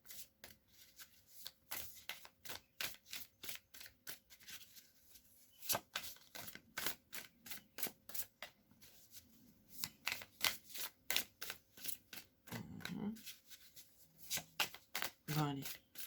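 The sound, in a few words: shuffling and drawing oracle cards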